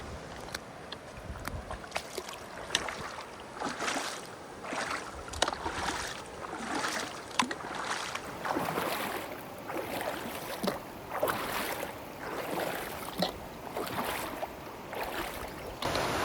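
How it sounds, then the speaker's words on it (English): Hurricane Creek in the Arkansas Ozarks flowing along a hiking trail, a faint, continuous watery rush with small splashes and gurgles, heard from close by and steady throughout. "This is Hurricane Creek."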